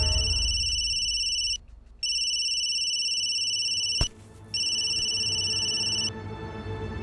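A phone rings unanswered, its electronic tone sounding in repeated bursts of steady high beeping with short gaps between them, close and clear.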